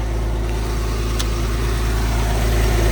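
A Porsche 997 911 with the 3.6 engine idles just after startup, a steady low drone with a faint irregular patter, loud and close, with no voices.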